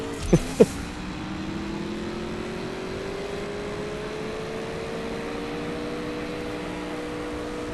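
Race car engines from the CSR2 racing game, a Lamborghini against a Gamera: after two sharp clicks, a steady, fairly quiet engine drone holds and slowly rises in pitch, without speech.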